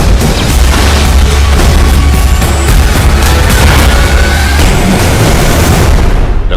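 Loud, dense gunfire and booming impacts fill an action scene from Captain America: The Winter Soldier, a sustained barrage of rapid shots and blasts with no pause.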